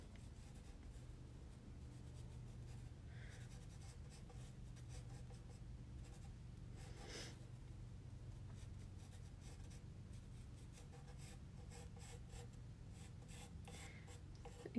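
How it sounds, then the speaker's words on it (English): A tool scratches and sketches lines into porcelain clay for sgraffito, a faint, steady dry rasping with soft irregular strokes, heard close and alone. "Can you hear me sketching?"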